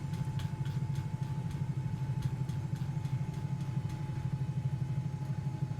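A Bell 222B helicopter idles in Microsoft Flight Simulator, its engines giving a steady, pulsing low hum with a faint whine above it and light ticking, with no voices.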